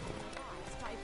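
Roach, a horse in The Witcher 3, gallops in quick rhythmic hoofbeats, brief and close, mixed with game sounds and voices.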